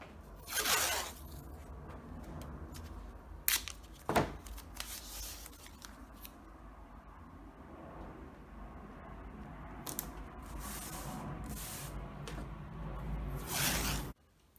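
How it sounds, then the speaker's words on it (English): Painter's tape pulled and pressed around the edges of an 11 by 14 sheet of canvas paper, giving a series of close, quiet tearing and sticking rasps with pauses between strips. "I'm just going to tape all the way around it using some painter's tape."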